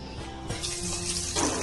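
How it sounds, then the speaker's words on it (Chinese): Water poured over 230 grams of glutinous rice in a pot to rinse it, a short running splash that swells and grows brighter near the end. "倒入清水清洗一下"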